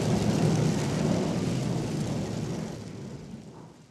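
A theatre thunder run, a stage sound effect used to mimic a thunderstorm, gives a loud, deep rumbling roll that slowly fades over a few seconds, heard alone without speech.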